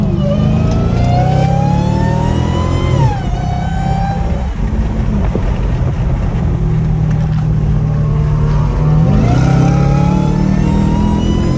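Loud engine roar from a Hellcat Redeye merging onto a freeway, with rising revs, gear-shift dips and pitch sweeps as it accelerates, heard close and continuous with no talking.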